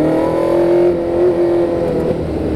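Formula 1 race car engine accelerating hard on a wet track, a loud, close, sustained high-pitched whine that climbs and holds steady with a brief dip partway through, heard alone.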